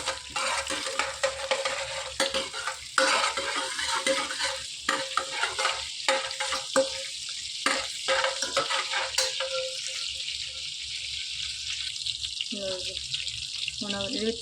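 Spices frying in a pan for a minute on a home stove while being stirred, a steady close sizzle with scraping stir strokes throughout and a voice talking faintly at times.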